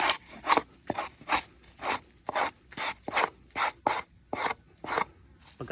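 Pineapple leaf scraped with a thin, breakable plate edge: a steady series of about a dozen close, rasping strokes in even rhythm, each a short dry scrape separated by brief pauses, with no talk.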